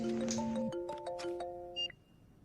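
A telephone rings as a call is placed, a short electronic ringtone of stepped melodic tones followed by a brief higher chirp, clear and close, then quiet.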